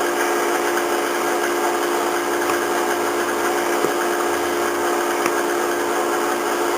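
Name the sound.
mixer whirling, creaming butter and sugar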